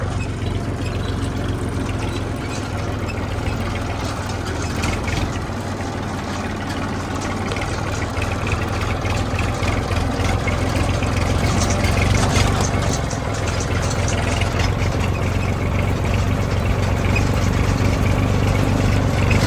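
A tractor engine idles in a wheat-field setting in the afternoon, a loud, steady low rumble with a constant mechanical chatter that runs unbroken throughout, with no voices.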